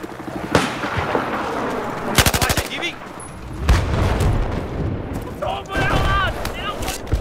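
Gunfire in the video game Battlefield 4 on the Golmud Railway map: loud bursts of automatic fire and sharp single shots spread through the clip, with a player talking over the combat.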